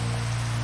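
Steady rain falling in Minecraft, a soft, even hiss under a constant low hum, unbroken and without voices.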